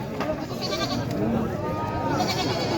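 A Beetal castrated goat at the Taherpur goat market bleats amid a constant crowd din, with voices of buyers and sellers talking throughout.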